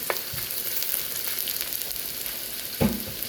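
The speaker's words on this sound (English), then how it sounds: "we're going to infuse the oil with fresh garlic and the ginger" Fresh garlic and ginger sizzle in hot oil in a pan, a steady close frying hiss with a couple of brief stirring scrapes and crackles, no talk.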